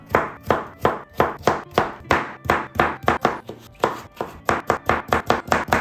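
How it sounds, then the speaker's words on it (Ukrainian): A knife chops potatoes rapidly on a cutting board, a long run of sharp, evenly spaced thuds, close and loud with no talking. "Картоплю нарізаємо невеличкими шматочками."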